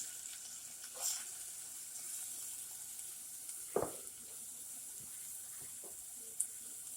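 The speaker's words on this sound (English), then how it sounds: "Cook these just until it starts to brown a little bit and those onions get a little translucent" Garlic and red onions fry in oil with a faint, steady high sizzle, broken by a few soft clatters and taps from stirring, quiet and close, no talking.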